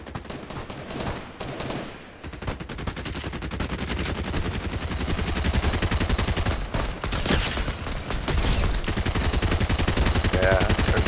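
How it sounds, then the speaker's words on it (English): Rapid bursts of gunfire from a shooter video game, with dense automatic fire sustained loudly through most of the stretch and overlapping shots building toward the end. "We're getting shot from behind."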